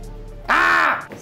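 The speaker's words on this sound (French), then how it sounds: "C'était un corbeau." A crow gives a single loud, harsh caw lasting about half a second, close by and clear against a quiet background.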